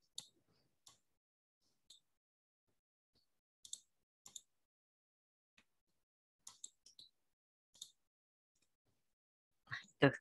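Sparse computer mouse clicks and keyboard taps come in small isolated bursts against near silence while someone copies and pastes into a chat window, with a louder brief rustle at the very end.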